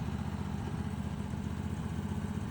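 An ARGO 6x6 amphibious vehicle, a long-stored barn find fitted with a non-stock engine, runs at a steady idle, a continuous low throbbing drone close by with no talk.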